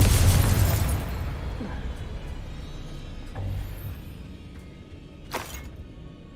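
A blasting spell goes off in a Harry Potter video game, one loud explosive boom at the start that decays into a rumbling roar, followed by a smaller burst later on.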